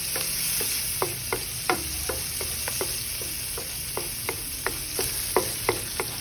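Crab sticks sautéing with onion, chilies, tomatoes and spring onion in Cajun seasoning, a steady sizzle broken by a dozen sharp utensil scrapes and taps against the pan at an uneven pace, close and moderately loud, with no talking.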